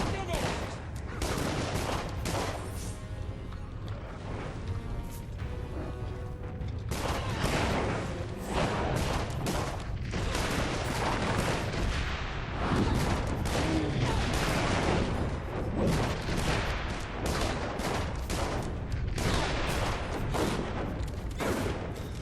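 Rifle gunfire in the fantasy action game Dungeon Siege 3, a dense, continuous barrage of loud shots and blasts that keeps going without a break under game effects.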